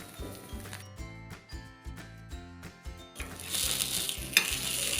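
Sweet jaggery rice appe fry in an appe pan after being flipped. A rhythmic tonal backing plays first, then a loud, dense sizzle takes over for the last couple of seconds, with one sharp click near the end.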